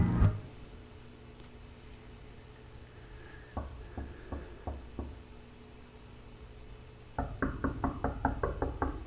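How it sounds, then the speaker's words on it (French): Knocks land on a door in two bursts: a slower series of single raps, then a quicker run of firm knocks after a pause. The knocking sounds close and fairly crisp over a quiet room hum. "Si quelqu'un frappe à la porte, ne répondez pas."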